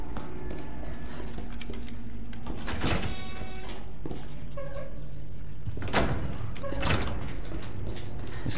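Door opening in the video game Resident Evil 2, with a heavy creak and thud standing out over a constant ambient game hum, followed by a few more clunks and knocks.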